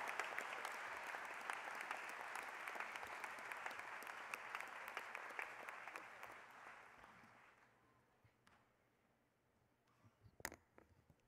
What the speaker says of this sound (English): Don't hold your applause, give it up.